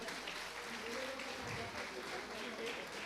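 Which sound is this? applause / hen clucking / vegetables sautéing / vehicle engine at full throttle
applause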